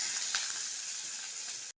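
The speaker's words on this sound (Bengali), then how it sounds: "পেঁয়াজটা হালকা করে ভাজা হয়েছে" A small onion, with crushed garlic, dried chilli and five-spice in hot oil, fries in a pan with a steady, soft hiss that cuts off abruptly at the end.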